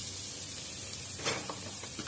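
Garlic frying in oil in a pan as the base for okra with garlic, a steady soft sizzle with a brief louder spatter burst midway, close by and with no talking.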